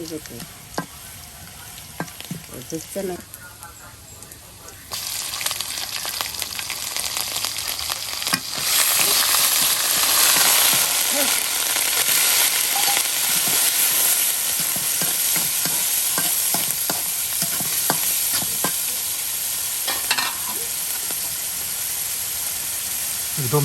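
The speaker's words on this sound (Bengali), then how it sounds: "সেই পেঁয়াজ রসুন তারপরে বাটা মশলার সাথে ভেজে হচ্ছে" Shrimp frying with onion, garlic and ground spice paste in a pan, a steady loud sizzle with stirring scrapes that grows fuller after a few seconds and holds throughout, no voices.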